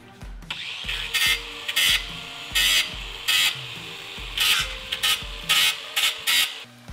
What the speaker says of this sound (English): I'm just gonna hit this entire ring with the grinder just a little bit